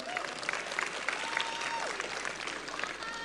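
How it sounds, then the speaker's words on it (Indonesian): Audience at a large youth campaign rally in Indonesia applauding, a steady wash of clapping from a big crowd heard at a distance, with faint cheering mixed in. "kita beri aplaus buat Bang Rosan"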